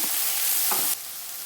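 Java apple thoran sautéing in a pan gives a steady broad sizzle, with a soft stirring scrape near the start and middle before the frying noise drops suddenly quieter.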